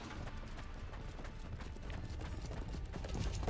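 Horse hooves clip-clop steadily in the medieval combat game Chivalry 2, a rapid, busy clatter of galloping beats heard up close with no talking.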